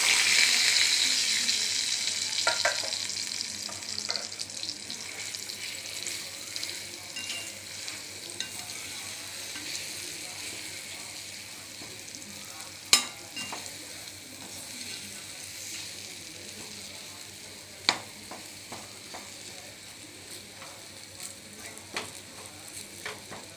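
Ground lentil paste frying in sesame oil in a pan for paruppu usili curry, a steady hiss and sizzle with occasional spoon scrapes and sharp taps as it is stirred, close and continuous.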